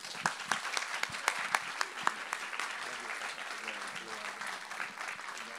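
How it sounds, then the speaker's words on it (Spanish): An audience claps steadily, a dense patter of many hands that thins out toward the end. "Que se siente el aplauso"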